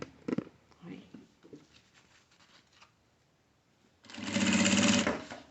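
Domestic sewing machine stitching a flap pocket seam at half a presser-foot width, a loud steady mechanical run in the final second and a half, after soft handling noises and quiet talk earlier.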